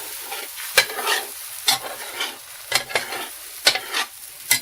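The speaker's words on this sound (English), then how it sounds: "Keep that spatula moving. You will not burn your eggs this way." Four scrambled eggs cooking in a pan while a spatula keeps pushing them around, giving a run of close, rhythmic scrapes roughly every second over a light sizzle, with no voices.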